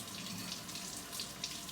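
Hot water runs steadily from a kitchen tap over popsicle molds, a continuous close splashing hiss with small bubbling flickers, heard alone without talk.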